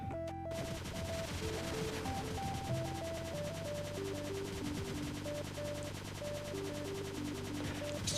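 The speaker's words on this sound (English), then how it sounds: "Still love the machine gun, it's just fun to play around with." Rapid machine gun fire in the video game Cave Story (Curly Story), a dense stream of shots running the whole time under loud, steady chiptune music during a boss fight.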